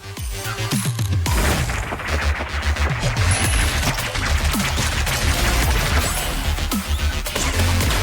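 Relentless machine gun fire in a frantic Metal Slug-style run-and-gun game, loud rapid bursts mixed with crashes, booms and music throughout, no voices.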